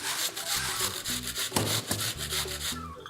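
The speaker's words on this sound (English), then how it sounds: "we're done with the grating." An onion rubbed over a grater while making lean meatballs gives quick, close rasping strokes in a steady rhythm, each scrape loud and gritty.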